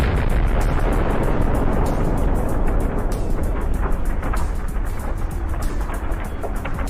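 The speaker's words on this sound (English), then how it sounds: "The kamikaze drone calmly picked up speed and hit the tank's ammunition, turning it into an impressive fireball." A Russian tank's ammunition cooks off after a kamikaze drone strike: a loud, dense roaring rumble of burning and exploding rounds with crackling bursts throughout, sustained and powerful.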